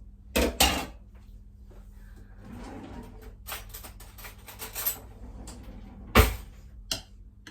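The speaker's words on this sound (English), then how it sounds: "Let me get a clean spoon." In a home kitchen, someone fetches a clean spoon: sharp metallic clinks of cutlery and a drawer rattling open and shut, a few scattered knocks and clatters close by with no talking.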